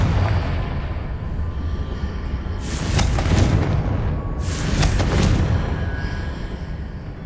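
Confringo fire spells in Hogwarts Legacy going off in an ancient magic trial, two heavy bursts of rumbling blast with a crackling fiery hiss, layered over a constant deep low drone.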